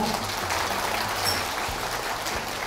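Audience at a hospital colorectal cancer center talk clapping together, a short, even burst of moderate applause from a room of people.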